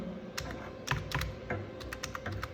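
Quick, light keystrokes on a computer keyboard while entering a prompt into ChatGPT, an irregular run of soft clicks close by in a quiet room.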